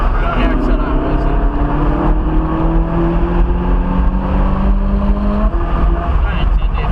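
A Ferrari 458 Italia engine on a racetrack, loud and close, with a steady rising drone as it accelerates, under continuous speech.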